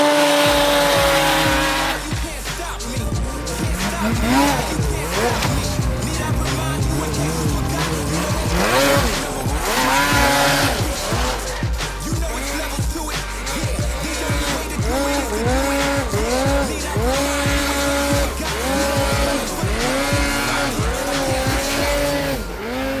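A Polaris 146 Boost snowmobile engine at speed revs hard again and again, its loud whine climbing and dropping in quick surges, close up and with no talk over it.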